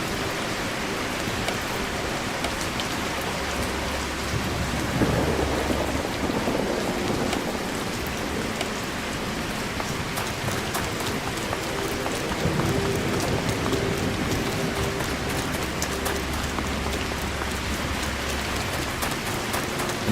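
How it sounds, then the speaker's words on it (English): Heavy rain and rumbling thunder from a storm in a voxel zombie apocalypse game, a dense continuous downpour with swelling low rumbles, loud and without talk. "Storm be very loud."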